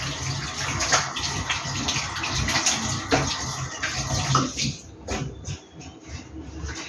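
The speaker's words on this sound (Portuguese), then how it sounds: "Lavar minha mão." Water runs steadily from an apartment tap as hands are washed under it after potting rosemary, a continuous splashing gush that thins out near the end.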